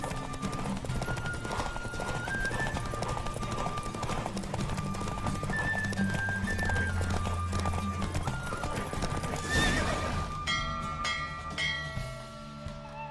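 Rapid hoofbeats clatter in a steady galloping rhythm during a horse race in The Witcher 3: Wild Hunt while a horse whinnies loudly near the end, with game music layered underneath.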